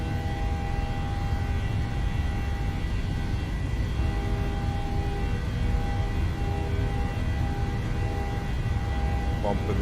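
Steady, loud engine roar of a Boeing 737-800 on its takeoff roll in Microsoft Flight Simulator, a constant droning hum with tonal whine that stays even throughout, with voices speaking over it.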